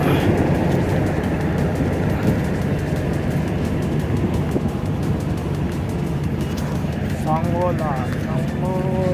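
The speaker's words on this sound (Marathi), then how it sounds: "लय मोठी रेल्वे आहे." A long train rolls past close by with a loud, continuous rumble and a rhythmic clatter of wheels that lasts the whole time. A horn-like tone rises near the end, and a voice talks over it.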